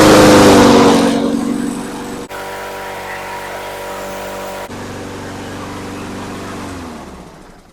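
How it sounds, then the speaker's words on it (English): A Honda HRN216 walk-behind lawn mower engine runs steadily close by after a loud start, holding a constant droning idle with a brief hitch midway before winding down at the end. "I'm going to start it real fast and make sure that the wheels drive"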